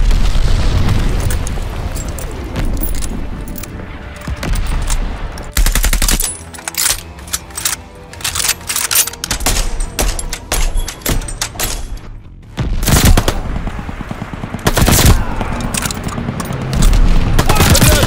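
MG42 machine gun firing in a World War II multiplayer deathmatch video game, with long ripping bursts and shorter volleys mixed with explosions and heavy battle noise, loud and close.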